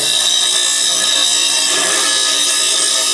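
A sander or diamond file deburring the cut end of an exhaust pipe for a 2019 Audi S3, giving a continuous harsh high-pitched grinding hiss at steady loud level.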